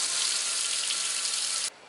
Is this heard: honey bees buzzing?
no